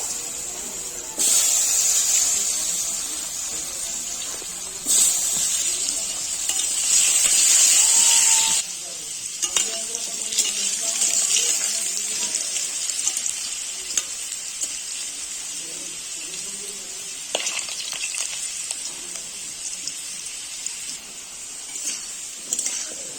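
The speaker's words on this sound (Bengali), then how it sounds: "পটল ভাজা তেলের মধ্যেই আলুগুলো ভেজে নেবো" Potatoes coated in turmeric and salt fry in oil left over from frying pointed gourd, giving a steady close crackling sizzle with brief louder hissing bursts over about twenty seconds.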